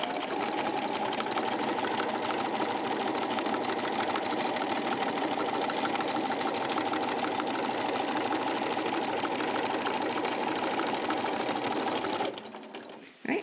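A sewing machine stitches in the ditch on a quilt-as-you-go block, a steady, fast, close mechanical whir and rapid needle clatter that runs nonstop for about twelve seconds, then stops abruptly.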